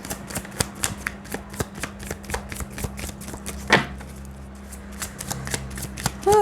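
Tarot cards being shuffled by hand, a quick run of crisp riffling flicks in steady rhythm, close and clear, with one louder snap partway through and no talk.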